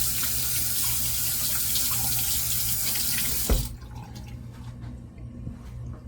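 Water runs steadily from a tap for a rinse, a loud continuous gush that stops abruptly partway through, leaving faint drips and quiet room noise.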